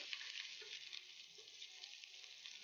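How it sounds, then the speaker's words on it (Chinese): Sichuan peppercorns, shredded scallion and ginger frying in hot oil give a steady, close hiss of sizzling, with faint stirring and light pops throughout. "再次热油，放花椒、葱丝、"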